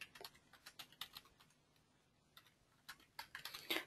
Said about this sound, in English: So I'm going to type in that term.